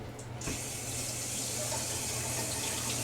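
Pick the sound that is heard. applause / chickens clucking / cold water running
cold water running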